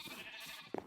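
Sheep bleating in Minecraft on a small survival island, a brief pair of bleats near the end of a quiet second over soft ambient background.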